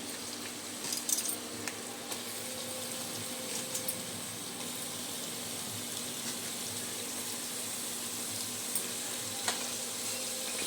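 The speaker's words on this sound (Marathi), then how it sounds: "तर आपण ह्याला चांगलं मिक्स करू।" Soy chunks being mixed through a dish in a frying pan for homemade jigri, with a steady soft sizzle and scattered scraping, clinking stirs running throughout at a moderate, close level.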